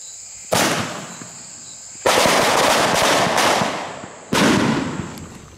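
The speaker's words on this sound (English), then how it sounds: "the use of fireworks to scare them off" Three loud bursts of crackling fireworks, each sharp onset fading into a dense sizzling crackle, with a steady high insect-like whine in the background.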